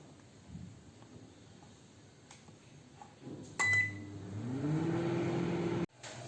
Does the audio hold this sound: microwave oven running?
yes